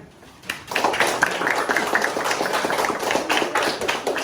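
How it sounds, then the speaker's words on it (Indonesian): Hands clapping in a classroom lesson, a lively burst of several people clapping close by that starts half a second in and continues steadily to the end. "tepuk tangan"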